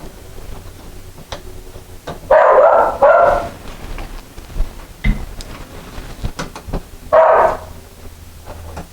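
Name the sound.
dog barking in the background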